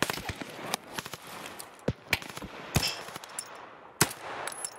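Gunfire in the shooter game Escape From Tarkov cracks out in sharp, scattered single shots and short bursts at varying distances, with faint footsteps and clatter between them.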